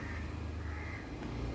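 A crow calls with a harsh caw from a tree near coconut fronds, fairly faint and distant over a steady low background hum, with no one talking.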